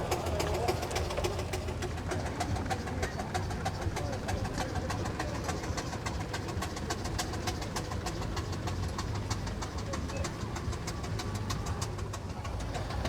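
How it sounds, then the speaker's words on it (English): Steam traction engines, a Burrell and scale models among them, rumble past in a rally parade with a steady low chugging and mechanical clatter, and faint birds are heard outdoors. "So that's a Burrell traction engine, and then another one of our scale traction engines following"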